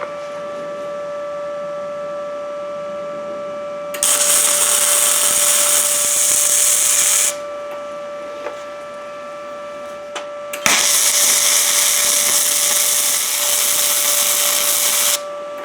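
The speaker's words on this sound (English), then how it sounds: "I'm just going to weld that on there." An Arccaptain MIG 200 welder set near 100 amps lays a bead on scrap metal, giving two loud sustained bursts of broadband crackling hiss over a steady electrical hum.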